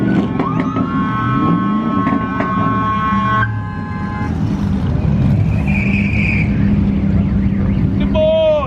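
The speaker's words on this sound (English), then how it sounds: "That's a big burnout." Cars rev and spin their tires in burnouts at a spring break street takeover, engines droning and tires squealing amid crowd noise and chatter, with a horn-like tone and a rising whine near the end.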